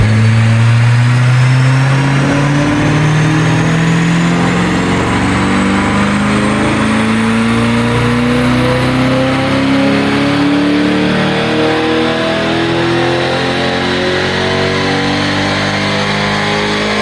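A tuned Corvette E-Ray engine on a test run with altered timing and fuel, holding a loud, steady drone that climbs gradually in pitch as it revs higher, close and sustained with no voices.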